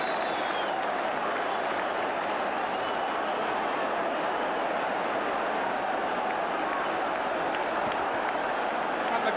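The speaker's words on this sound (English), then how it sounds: "The crowd reacting to a splendid goal." A football crowd roars and applauds after a goal, a dense, sustained wall of clapping and cheering that holds steady throughout.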